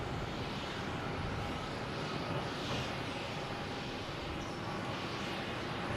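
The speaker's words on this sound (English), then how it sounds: "Private owner, Gulfstream." A privately owned Gulfstream business jet at Boston Logan gives off a steady, moderately faint engine roar with a whining tone, unbroken for several seconds.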